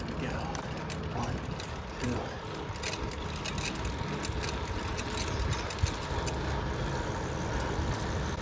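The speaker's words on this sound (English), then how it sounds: "Listen for the wind." Wind roars past while a Schwinn GTX3 hybrid bike is ridden fast on a straightaway, a steady broadband rush with light mechanical ticking from the drivetrain underneath.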